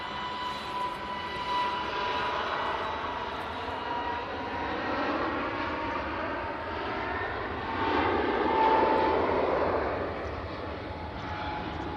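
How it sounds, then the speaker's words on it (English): A distant, steady engine hum and whine from a Qatar Airways jet pushing back at Manchester Airport, holding at moderate level and swelling slightly toward the end. "Qatar's pushing."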